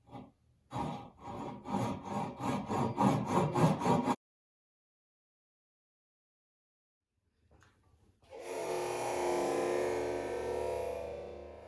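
A hand saw rasps through wood in quick, rhythmic back-and-forth strokes, close up, then stops; after a silence, a steady broadband rushing noise follows.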